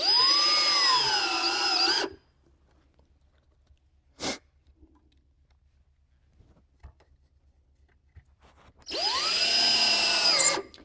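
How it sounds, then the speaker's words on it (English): Power drill driving screws into a wooden 10-frame Langstroth beehive box, two sustained whirring runs of about two seconds each separated by a long quiet gap with a brief knock. "While he puts the screws in."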